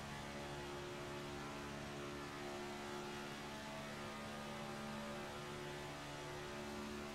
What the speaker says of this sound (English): Let's ride on board this number 2 car here and see if we can tell from his throttle sound if he is lifting